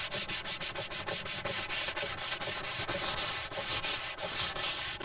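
Primer on a car body panel is block sanded in fast rhythmic back-and-forth strokes, a loud close raspy scrubbing that repeats steadily with no voices.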